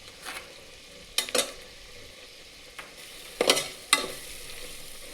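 Vegetables and spices with salt being sautéed in a pan for palak pulao, a soft sizzle under a series of sharp spoon scrapes and stirring knocks, clustered in bursts.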